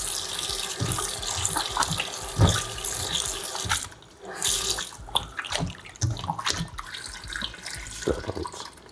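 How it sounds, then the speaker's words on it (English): Tap water runs into a bowl while raw chicken is rinsed with lime juice for Trini stew chicken, a close, steady splashing stream broken by short dips and bursts of sloshing. "Put some water in there."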